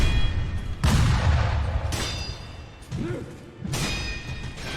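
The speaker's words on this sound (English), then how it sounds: "her gunshots will damage you through guard" Enemy gunshots in the video game Sekiro, heard as several heavy booming blasts spaced about a second apart, loud and close, with game ambience between them.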